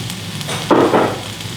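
Tomatoes drop into a hot pan on a wood cook stove for a queso dip, giving a sudden short sizzle that flares and then settles into a low hiss.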